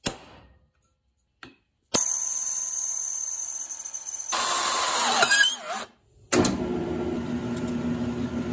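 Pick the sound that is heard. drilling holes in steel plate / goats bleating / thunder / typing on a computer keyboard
drilling holes in steel plate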